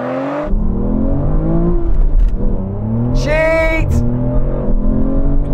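Aston Martin Valkyrie, Vanquish and V12 Vantage in a drag race: engines roar loudly through rising, gear-stepping revs, with a high-pitched surge partway through and a steady powerful drone throughout.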